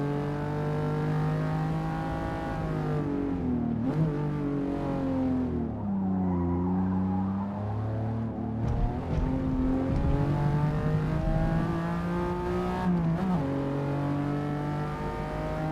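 A naturally aspirated 3-liter V6 race car in Gran Turismo 7 revving hard through the gears, its engine note rising and dropping at each shift, with tires squealing under cornering, loud and continuous.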